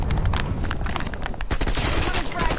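Dense, rapid Call of Duty gunfire crackles nonstop through the whole stretch, sharp reports piling into a continuous burst with a few heavier hits, loud and close, with talk mixed in underneath.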